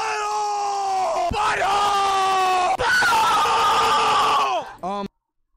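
Several people scream at the top of their lungs in long, loud, harmonic yells that overlap, then break off abruptly at the end.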